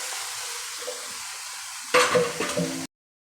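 Marinated goat head meat frying in a pan with pepper powder, a faint steady hiss that turns into a louder burst of sizzling and clattering before cutting off abruptly, no talk.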